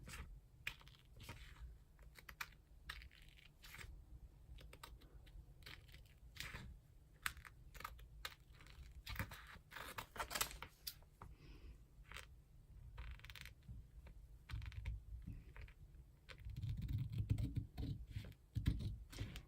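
Scissors cutting out a sequin pocket, a quiet close series of irregular snips and crisp clicks, rustling faintly against the material.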